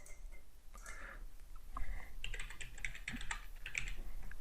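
Rapid typing of Python code on a computer keyboard, a close, quiet run of clicking keystrokes in uneven bursts with no voice over it.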